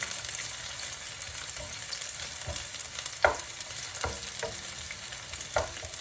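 Onions and carrots frying in a pan for a Cajun vegetable wrap, with a steady sizzle throughout and several scraping knocks as a spatula or spoon stirs them, no talk.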